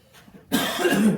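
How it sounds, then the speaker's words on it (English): A single harsh cough bursts out close by after a moment of quiet. "Excuse my coughing."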